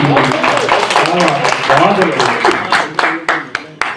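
Audience applause at a Hindi kavi sammelan poetry recital, a steady burst of many hands clapping that thins toward the end into a few sharp, separate claps, with a voice audible over it.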